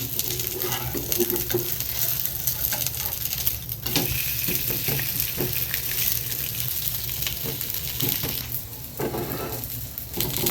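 Rice flour dosa cooking on a hot pan, with a dense, even sizzle that runs unbroken and fairly loud, plus a few brief rougher bursts along the way.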